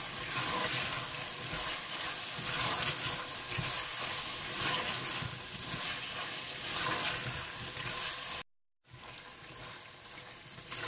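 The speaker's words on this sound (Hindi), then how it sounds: "अच्छी तरह भूनने के बाद आप इसमें नमक और कसूरी मेथी डाल दें और अच्छी तरह से मिला लें और थोड़ा सा और भून लें।" Mutton liver frying in a pan with salt and dried fenugreek (kasuri methi), making a loud, continuous close-up sizzle with stirring that cuts out briefly near the end, then resumes.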